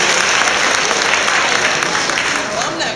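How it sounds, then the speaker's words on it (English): Audience applause at a JSU homecoming comedy show, a loud continuous roar of many hands clapping with some crowd noise, steady throughout and heard alone. "Y'all clap for that shit."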